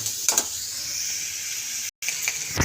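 Beans, carrot and onion fry together in a pan, giving a steady close hiss and sizzle with a few stirring clicks and one brief cut to silence near the end.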